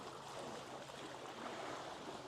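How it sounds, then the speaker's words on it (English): Wake waves from a passing boat washing against the shore, a faint continuous splashing and rushing water sound with light wind, no voices. "So there was a boat that went by"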